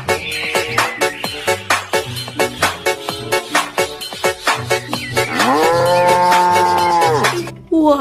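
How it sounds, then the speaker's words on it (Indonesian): A toy cow plays a loud electronic moo, first chopped into quick rhythmic pulses, then a long sustained moo that ends abruptly, heard close up and alone. "Lihat tuh teman, di sini ada sapi."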